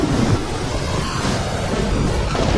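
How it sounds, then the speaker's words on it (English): Cyclone Ida's strong wind tearing through town as a loud, constant roaring rush with heavy buffeting on the microphone and no pauses or voices. "The wind tears through town."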